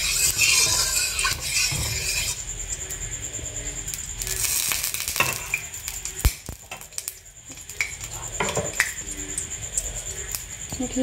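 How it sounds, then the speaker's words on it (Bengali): Whole garam masala crackles and sizzles in hot ghee in a wok. A bright, hissing spatter runs throughout, with scattered sharp pops and metallic utensil clinks close by. "ঘিটা গরম হয়ে গেছে, এবার এতে দিয়ে দিচ্ছি গোটা গরম মশলা।"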